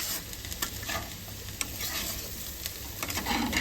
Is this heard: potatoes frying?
yes